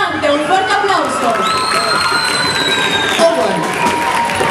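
An audience at an evening award ceremony for young people cheers and applauds a winner, with whoops and shouting over clapping, and some voices heard through the crowd noise.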